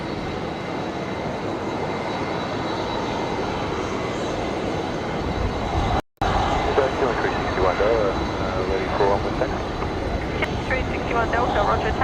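A Qantas Airbus A330-200 on a ferry flight at Brisbane Airport produces a steady, broad jet engine roar with a brief dropout midway, while a voice speaks over it.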